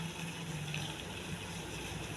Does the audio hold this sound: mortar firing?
no